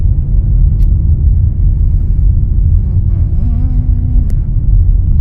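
A car drives along a road with a loud, steady low rumble of engine and tyre noise close by, holding throughout with a brief faint tone partway through.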